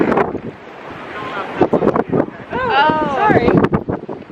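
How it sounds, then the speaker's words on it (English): Gusty coastal wind buffets the microphone on a sunny, windy day by the sea, a low rumbling roar swelling and easing beneath close voices. "It's just windy."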